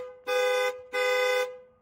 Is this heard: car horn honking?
yes